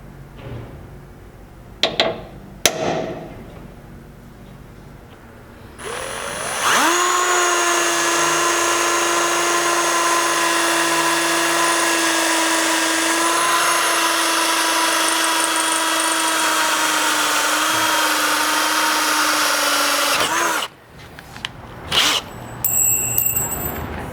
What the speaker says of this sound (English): After you have all 4 of these holes drilled